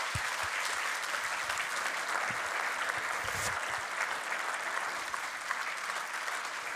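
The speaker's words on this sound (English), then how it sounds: "give a big applause to these ambitious hotels" A conference audience gives sustained applause after a presentation, an even, continuous patter of many hands that holds for several seconds at moderate distance.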